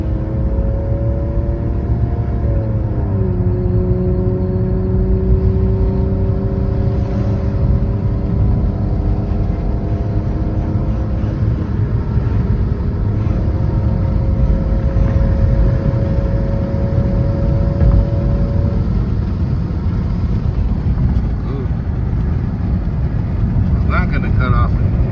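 A repaired BMW E46 wagon with new VANOS seals cruising on the road, a loud steady engine drone from inside the cabin with gear-shift pitch changes and continuous road rumble throughout.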